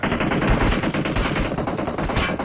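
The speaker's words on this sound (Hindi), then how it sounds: "यहाँ पे फायरिंग होती है अब पे बहुत गंदे वाली" Dense, continuous machine-gun fire in the PUBG Mobile game: rapid, evenly spaced loud shots stream without a break, close and harsh.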